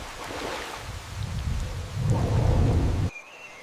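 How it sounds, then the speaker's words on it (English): Heavy rain drumming on trees over an Amazon jungle river, with a deep rumble of thunder swelling toward the end before cutting off abruptly; no voices. "Heavy rain pummels the trees, creating a mist of impact."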